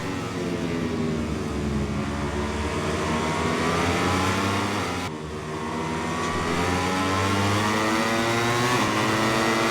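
MotoGP 21 racing motorcycle engines scream at high revs, a loud, sustained whine that rises and falls through gear changes as the bikes charge early in a race, with no voices over it.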